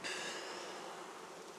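Winter honeybees, long and plump, buzz steadily at an open hive in a pre-winter apiary, a dense continuous drone that holds fairly loud throughout with no talk.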